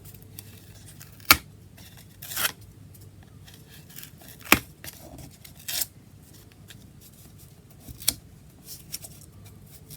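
Scattered crisp snips of rounded scissors cutting cardboard, several isolated cuts spaced a second or two apart over a quiet background.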